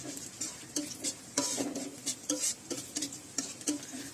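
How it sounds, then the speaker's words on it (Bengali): Cashews and raisins sizzle and crackle in hot oil while a utensil stirs with rhythmic scraping, no voices present. "এবারে এই তেলে কাজু ও কিশমিশ ভেজে তুলতে হবে।"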